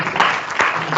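Short burst of applause from a conference audience for a speaker at a rail decarbonisation session, brief uneven claps rising and dipping over about a second.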